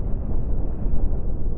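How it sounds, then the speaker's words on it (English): Cannons fire in the Cosmoteer spaceship combat game as a dense, continuous rumbling barrage of booms, loud and muffled, with no voice. "Here we go, cannons are firing"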